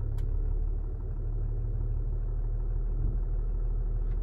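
A 2012 Range Rover Sport SDV6 with its diesel V6 running, a low steady engine rumble close by as the SUV creeps backwards, no speech.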